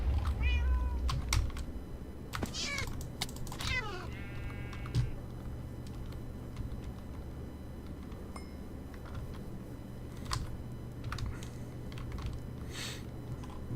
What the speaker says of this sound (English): I heard a cat, but I don't think it's a friendly cat.